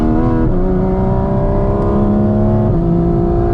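A Porsche GT4 RS in sport mode kicks down and accelerates hard on a glacier road, its engine loud and close, climbing in pitch through the gears with two audible shifts.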